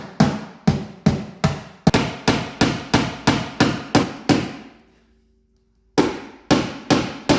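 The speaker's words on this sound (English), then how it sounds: "We got our good friend the ball-peen hammer who's going to solve our intake manifold problem" A ball-peen hammer strikes the firewall of an FC Mazda RX-7 to make clearance for the intake manifold. About fifteen sharp, evenly spaced metallic blows ring out close by, then a brief silence and a few more.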